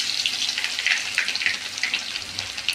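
Garlic dropped into hot oil already tempered with cumin and mustard seeds in a kadhai sizzles with a steady, crackling hiss, popping lightly throughout at close range, no voices.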